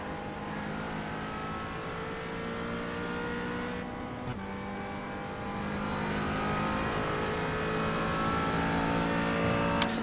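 McLaren race car lapping Silverstone during an STCC round, a steady loud engine drone with rising pitch as it accelerates, a brief gearshift blip near the middle and the engine note building toward the end, no talk.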